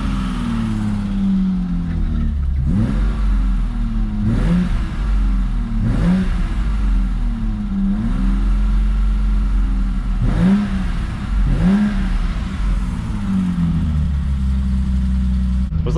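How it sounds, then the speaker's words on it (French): A BMW E30 320i inline six-cylinder, smoking, revs repeatedly on the throttle, with about six rising-and-falling blips over a steady idle, loud and close. "Je vais mettre un petit coup de gaz."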